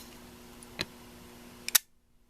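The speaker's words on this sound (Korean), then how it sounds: "자, 눌러 보겠습니다. 네. 네. 셔터가 열립니다." A film camera shutter being repaired is pressed and opens, giving a single sharp click followed a moment later by a quick double mechanical snap, close and crisp, then silence.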